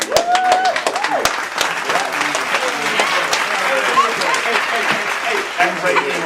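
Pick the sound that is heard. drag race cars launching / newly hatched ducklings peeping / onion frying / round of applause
round of applause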